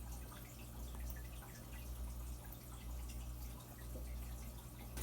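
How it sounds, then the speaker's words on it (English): Treated water pumped by a small 480 power head pump refills a 5-gallon Fluval aquarium, a steady trickling, dripping flow over a constant low hum, close and continuous with no talking. "This is the process of filling the tank back up with treated water, and I use a little 480 power head pump to do the process."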